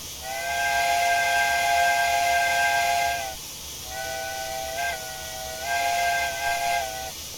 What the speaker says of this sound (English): That's an enjoyable whistle.